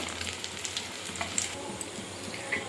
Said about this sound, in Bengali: ফোড়নে দিয়ে দেব কালো জিরে,